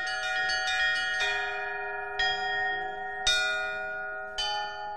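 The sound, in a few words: Russian church bells played in a bell tower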